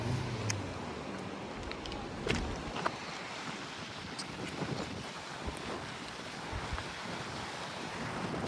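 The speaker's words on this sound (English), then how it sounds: "The water speed is as well very fast." Fast-flowing river water rushes steadily beneath a bridge crossing in Takhar, Afghanistan, a broad continuous roar blended with wind buffeting the microphone, with a few faint clicks and knocks.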